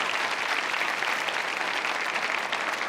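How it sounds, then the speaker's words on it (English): Loud, dense audience clapping at a stand-up comedy show, a continuous wash of applause from a full room with no break. "You can clap for them."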